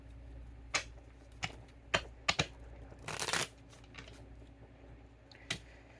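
Tarot cards shuffled close by in scattered bursts of sharp riffling and slapping, with a longer, louder riffle in the middle and quiet pauses between.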